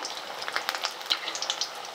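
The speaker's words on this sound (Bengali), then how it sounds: "দেখুন একদম বড়ার মতো ভাসছে তেলে" Banana flower fritters fry in hot oil, giving a steady crackling sizzle with scattered sharp pops throughout, fairly close and moderately loud.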